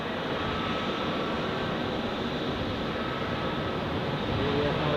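A Swiss Airbus A321neo takes off on runway 28 at Zurich Airport, heard as a steady, broad jet-engine roar held at an even level throughout, with no voices.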